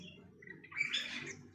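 A Papuan butcherbird in an aviary gives a short, clear whistled song phrase of a few rising notes, moderately near over faint background hiss.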